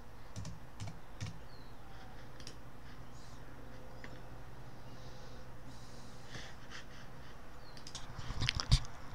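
Sparse, soft keystrokes on a computer keyboard while entering a package name in an installer, scattered clicks over a low room hum with a brief louder clatter near the end.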